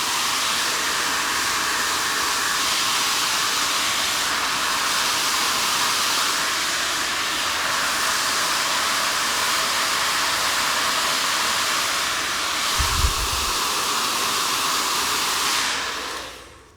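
A hair dryer blows steadily and loudly while curly hair is dried, a continuous broadband whoosh with a brief low thump near the end before it cuts off.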